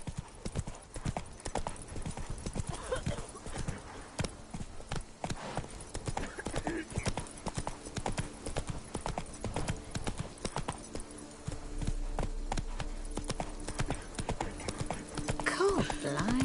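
Roach, a horse in The Witcher 3 video game, clip-clops in a steady hoofbeat rhythm throughout, dense and fairly loud, with some speech mixed in.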